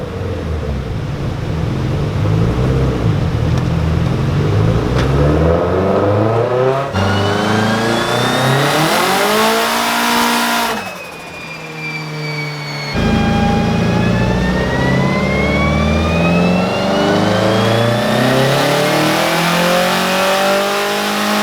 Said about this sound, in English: Now it's back on the dyno and we're going to do the final tune.